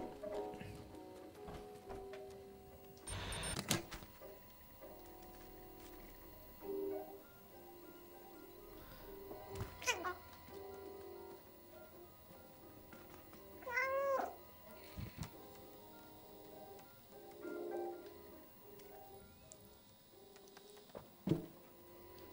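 A stray cat in the video game Stray gives a few soft, short meows spaced across a quiet stretch of ambient game sound, with occasional clicks and thumps between them.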